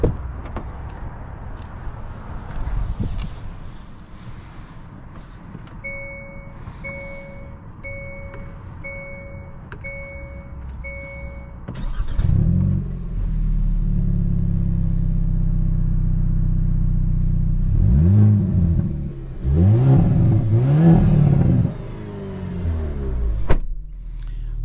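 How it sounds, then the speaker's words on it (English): A 2023 Hyundai Kona N starts up and drives. A few electronic chimes sound first, then a low engine rumble comes in, followed by several rising revs as it accelerates, heard from inside the cabin. "let's go ahead and drive the 2023 Kona N"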